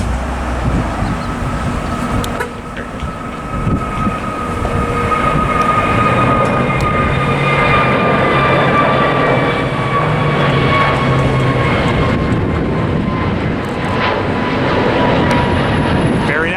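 An American Airlines plane taking off at LAX roars steadily with a broad jet rumble and rising whine, loud and sustained, while a voice talks over it.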